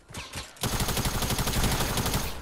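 Rapid SMG fire in an online squad shooter game, a short lead-in burst and then a dense, continuous rattle of shots, loud and close, with no talking.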